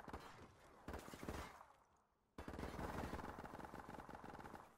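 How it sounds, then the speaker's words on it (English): Players shooting in a prop hunt video game, sustained rapid bursts of faint, distant gunfire that break off briefly and then resume as continuous rattling. "Oh, they're just shooting random shit now."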